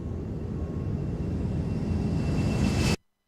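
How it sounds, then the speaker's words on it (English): A passenger airplane flies over at LAX, a loud, steady broadband roar that holds close and constant for about three seconds, then cuts off abruptly into silence. "Yep, that was a plane."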